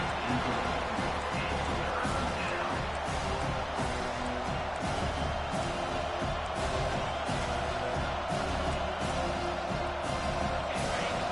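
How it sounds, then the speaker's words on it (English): A large stadium crowd at an American football game roars loudly and steadily throughout, a dense wall of cheering and noise with no pause. "Listen to this crowd just shaking the girders of this place, trying to help their defense."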